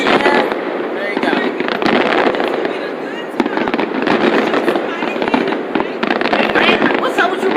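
Fireworks at the 2019 Wawa Welcome America display burst and crackle continuously with dense overlapping pops, loud and sustained throughout, while voices talk nearby in the crowd.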